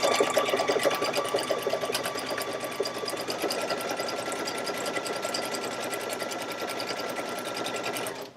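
Sewing machine stitching quilt pieces together, a loud, steady mechanical whir with a rapid needle chatter that runs without a break for about eight seconds and then stops abruptly.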